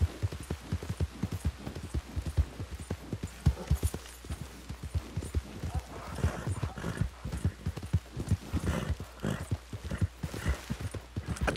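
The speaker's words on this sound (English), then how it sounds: "I just wanted to get on my horse" Horse hooves clip-clop steadily on the ground in Red Dead Redemption 2, with an occasional neigh and whinny mixed into the rhythmic trotting, fairly close and continuous.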